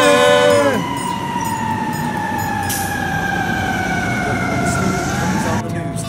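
A fire engine siren wails loudly in long, gliding tones that fall slowly in pitch, with a burst of music or singing at the very start and a steady rumble underneath.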